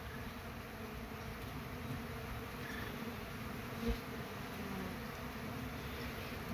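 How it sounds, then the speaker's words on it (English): Honeybees swarm close around a person's hand at home, asking for food, and fill the air with a dense, steady, faint buzzing hum that holds throughout with no speech. "There's bees on my hand."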